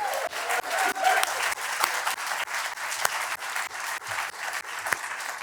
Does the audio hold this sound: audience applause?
yes